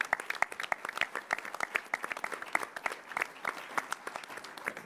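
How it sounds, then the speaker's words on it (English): An audience at a state cabinet meeting in Rochester gives a steady round of applause, dense overlapping claps from many hands, moderately loud and continuous with no talk over it. "Another round of applause for them for their good work."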